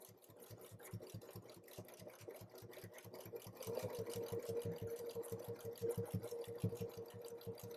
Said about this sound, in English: The Bernette b08 sewing machine goes at 1600 stitches per minute